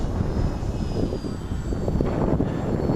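Steady droning engine of a Hobbyking F4U Corsair R/C warbird model airplane flying overhead, continuous and moderately distant, mixed with outdoor wind noise.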